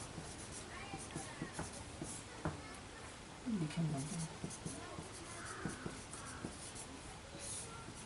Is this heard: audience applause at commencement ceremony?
no